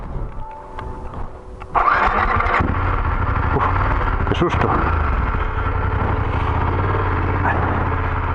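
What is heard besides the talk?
motorcycle engine faltering and failing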